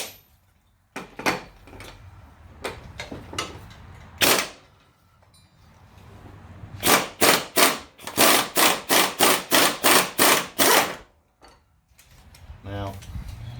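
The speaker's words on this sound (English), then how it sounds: "I'm going to take this off because I'm probably might have to tap it with the brass hammer in order to get this pulley off" Brass hammer tapping a stuck pulley on the spindle jack shaft of a Husqvarna zero-turn riding mower: scattered sharp metallic knocks, then a fast run of about ten loud, evenly spaced strikes close up.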